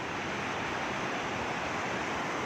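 Gentle sea waves washing at Sidi Bishr beach in Alexandria, a continuous soft broadband surf wash with no distinct breaks, steady and moderately quiet.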